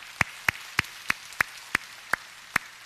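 A church congregation claps in unison in praise after a prayer: eight crisp, evenly spaced claps at a steady quick rhythm, moderately loud over a quiet background.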